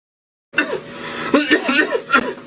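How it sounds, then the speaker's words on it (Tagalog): A few short, rough coughs from one person close by, coming in bursts after a moment of silence. "to kalala na sang ubo mo"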